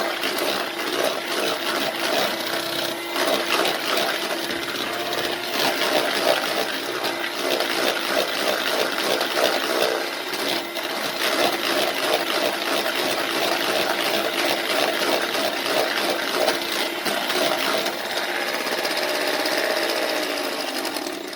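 An electric mixer whirs steadily and loudly, beating cream cheese into cream, with a continuous buzzing drone and a faint rattling churn that carries on throughout without a break.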